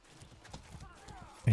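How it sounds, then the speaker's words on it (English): Horse hooves in the video game Mordhau clip-clop in a quick, uneven rhythm, faint and fairly close, ending with a sudden louder burst. "I hear a horse"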